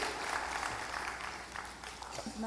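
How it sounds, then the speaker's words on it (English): Steady clapping from a crowd fills the room, a dense wash of handclaps continuing without break at moderate loudness. "Let's give Aidan a round of applause, please, everyone."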